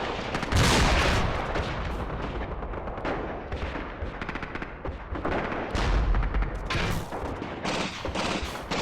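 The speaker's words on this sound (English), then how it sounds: "There goes the mortars." Mortar fire in the WWII tactical game Graviteam: Fateful Strike, a dense barrage of booming launches and impacts rolling continuously and loudly with no quiet gaps.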